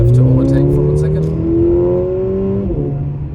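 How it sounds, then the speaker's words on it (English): A Mercedes A45 accelerates hard to overtake on a mountain pass, its engine note rising steadily and loud from inside the cabin, with a short shift near the end. "So okay, we have to overtake for 1 second"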